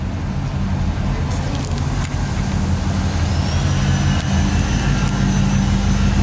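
A Chevrolet LS1 V8 engine with a Borla exhaust runs loud and close in a shop, a steady deep rumble with a slight rise near the end, while people talk over it.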